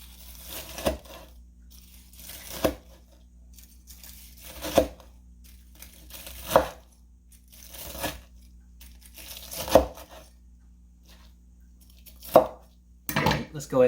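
Crunchy cutting of double-fried chicken katsu, a series of crackling crunches at roughly even intervals, close up, with quiet moments between them.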